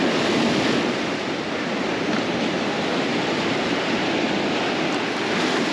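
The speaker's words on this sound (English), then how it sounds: "Just working with these waves." Ocean surf breaks and washes continuously along a beach during surf fishing, a loud, steady roar of waves with wind noise and no talk.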